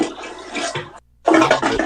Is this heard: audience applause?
no